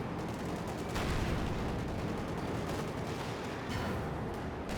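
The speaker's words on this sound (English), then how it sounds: "And the sniper just continues to shoot." Dense, continuous gunfire from the Company of Heroes 2 video game, with sniper shots among rapid overlapping battlefield fire and distant explosions, steady and moderately loud with no voices.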